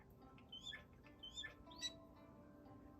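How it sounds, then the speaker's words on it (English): Songbirds sing outdoors on a Colorado mountainside, with several faint, high chirps and short whistled phrases drifting over a low, quiet background. "We have some songbirds."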